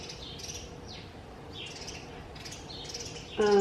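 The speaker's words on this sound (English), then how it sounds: "them birds are distracting me" Birds chirp and tweet outdoors in short, scattered calls throughout, moderately close over a steady background hiss, with a louder burst of sound at the very end.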